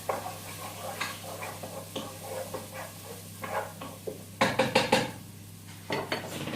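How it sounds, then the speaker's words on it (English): Minced garlic being stirred in a pan while cooking a Thai beef panang curry, with irregular scraping and metallic clinks of utensil on pan, louder and quicker near the end, over a low hum. "Gonna give that another stir"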